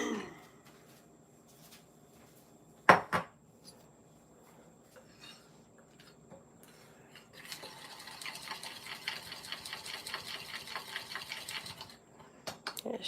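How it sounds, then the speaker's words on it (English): Candy melts stirred in a bowl give a steady, faint scraping and clicking of a utensil against the bowl, preceded by a couple of sharp knocks. "Just trying to mix through and make sure those little pieces get melted."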